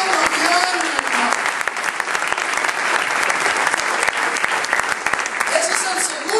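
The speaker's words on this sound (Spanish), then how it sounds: "Dale un aplauso" A church congregation bursts into loud, sustained clapping during an apostle's Spanish-language sermon, close and dense throughout with faint voices mixed in.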